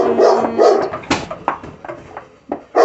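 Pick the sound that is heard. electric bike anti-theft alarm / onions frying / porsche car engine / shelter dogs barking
shelter dogs barking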